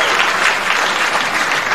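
Comedy club audience at Snickerz Comedy Club bursting into steady, dense applause, loud and continuous throughout with no pauses.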